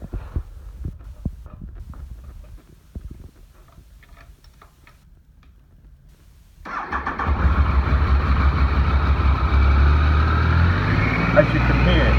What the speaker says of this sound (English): it's got a very quiet engine. Give it a little start.